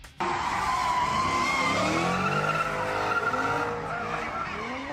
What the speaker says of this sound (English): illegal street racing is putting drivers in danger, and it's frustrating residents who are woken up by the noise